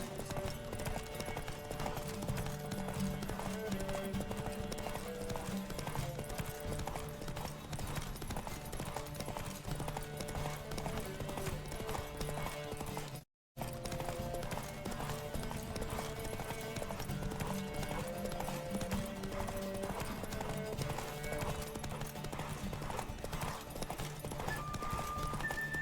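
Rapid, continuous hoofbeats of several horses galloping in a horse race in The Witcher 3, with music in the background and a brief dropout midway.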